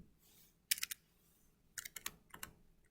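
Numbers are tapped into a computer keyboard in quiet, separate bursts, first a short cluster of clicks and then a quicker run of several keystrokes, all close and fairly soft with no talking.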